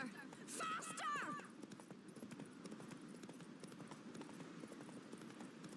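Horse hooves galloping at speed in The Witcher 3 video game, a steady rhythmic clip-clop under game music and a brief whinny-like squeal near the start.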